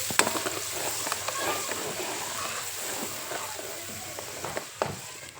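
Vegetables hiss and crackle as they are stir-fried in oil left from frying paneer, a continuous close sizzle with occasional scraping stirs and a couple of sharper spatula knocks, no voices.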